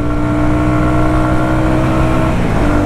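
Shineray Worker Cross 150 motorcycle engine revving steadily under load, with a slight pitch change near the end as it shifts into fourth gear on a test ride; loud, close and continuous.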